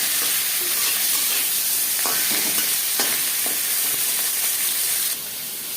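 A hilsa fish head fries in mustard oil in a karahi, producing a dense, loud continuous sizzle and spatter with occasional stirring knocks, easing slightly near the end.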